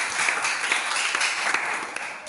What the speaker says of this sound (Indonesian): tepuk tangan untuk Bapak Argule ya